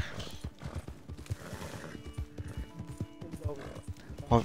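Horse hooves clip-clop with an occasional whinny in the snowy Red Dead Online game world, set under ongoing talk and game noise, with a few tonal effects and a brighter burst near the end.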